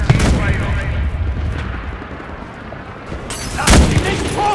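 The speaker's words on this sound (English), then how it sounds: "Bomb" Bombs exploding in the World War II shooter game Enlisted, with a deep booming blast at the start and another loud close detonation near the end over a rumbling battlefield din.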